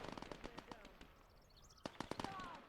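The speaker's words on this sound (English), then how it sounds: "So you can still hear my guys on suppressive fire." Automatic suppressive fire in the Gates of Hell: Ostfront WWII strategy game sounds as irregular bursts of sharp cracks against a busy battle backdrop, with a heavier cluster of shots toward the end. Moderately distant.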